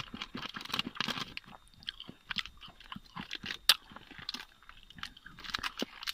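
Close crunchy chewing of Britannia Treat Jim Jam biscuits, with irregular bites and mouth sounds repeating steadily and no speech.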